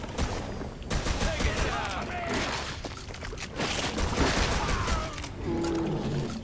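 Video game gunfire from a six-round gun: sharp reports and clustered bursts crackle across the scene, loud and close, with heavy battle noise in between and no pause long enough to be quiet.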